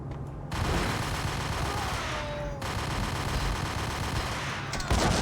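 Dense, continuous gunfire and explosions in the Max Payne video game, a loud chaotic barrage that fills the whole stretch without pause, with no speech over it.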